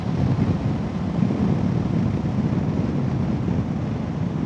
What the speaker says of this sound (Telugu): ఫారెస్ట్ లోపలికి రాగానే ఏకదం చల్ల గాలి ఇట్లా తగులుతుంది.